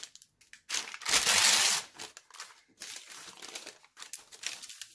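Folded packaging paper being cut in half with scissors, giving crinkling, crunching rustles in short bursts with one louder crumpling stretch, close by and with no talking.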